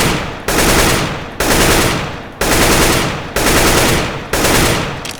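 Automatic rifle in CS:GO fired in five long sprays while the player moves, loud and close, each burst a dense rattle of rapid shots separated by short pauses.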